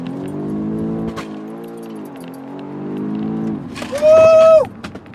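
An Audi S3 holds its revs for a launch start, the engine droning and wavering close by, then surging into a short sharp high rev before dropping away.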